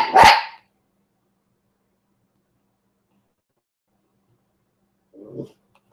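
One sharp, loud bark from a strong dog breaks the silence, followed by a long quiet gap and then a brief, softer, lower sound near the end.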